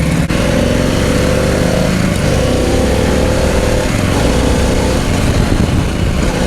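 A Harley-Davidson Pan America motorcycle engine drones and revs steadily up close, a throaty rumble with engine braking, no talking.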